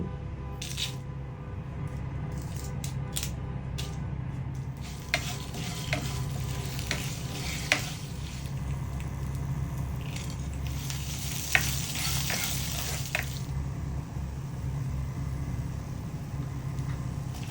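Whole spices roast in a pan: coriander, cumin, fennel, pepper, dried chillies, stone flower, curry leaves, cinnamon, cardamom and cloves. A soft steady sizzle runs under intermittent spatula scrapes and light rattling taps.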